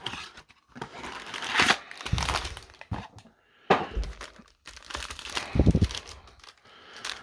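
Plastic wrapping on an NXT 2.0 trading card blaster box crinkles and crackles in close, irregular bursts, with short quiet gaps between handling sounds.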